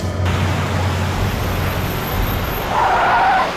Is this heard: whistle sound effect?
no